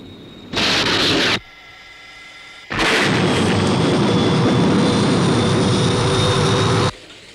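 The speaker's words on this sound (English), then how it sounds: "Paul, there's another aircraft." A jet aircraft roars loudly overhead during a missile-launch scene from a 1970 UFO television series, with a brief burst followed by a longer, sustained, broadband rush.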